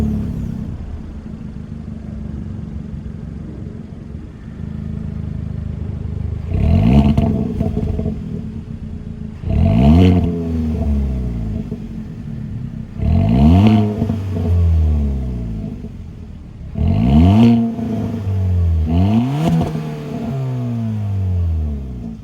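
A 2024 Kia Forte GT's 1.6-liter turbocharged four-cylinder engine idles, then is revved in five sharp, loud bursts that each climb and fall back to a steady idle, with no talking.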